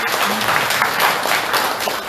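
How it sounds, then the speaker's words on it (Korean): Residents and committee members at a Korean township community meeting clap together, a brief, loud, continuous burst of many hands with no break. "모두에게 큰 박수 한번 보내주시기 바랍니다."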